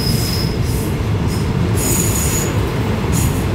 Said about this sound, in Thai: ตอนนี้เราอยู่บนขบวนรถเร็วที่135กรุงเทพอภิวัตอุบลราชธานี ซึ่งกำลังจะถึงสถานีผาเสด็จนะครับ